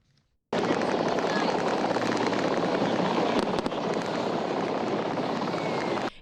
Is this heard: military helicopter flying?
yes